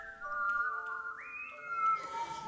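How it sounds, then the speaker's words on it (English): A person whistles a sliding, wavering melody with long held pitches and upward glides, clear and fairly close over faint background hiss. "Even the styles of whistling displayed were so distinct from each other."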